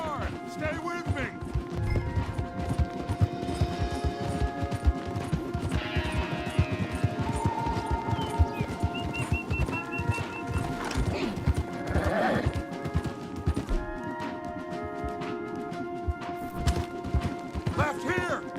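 Several horses gallop hard in Red Dead Redemption 2, steady rapid hoofbeats with occasional whinnies and a crash, continuous under a musical score and shouted dialogue.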